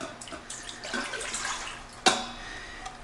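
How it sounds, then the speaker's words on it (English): Two cups of water splash and trickle into an Instant Pot's inner pot, a short close pour with a brief clunk partway through, no talking. "we're gonna go ahead and put 2 cups of water into our Instant Pot"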